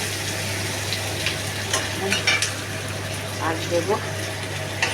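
Onion and green chillies sizzling in hot oil in a pan, a steady frying hiss with a few stirring clatters, heard under a voice talking as ingredients go in.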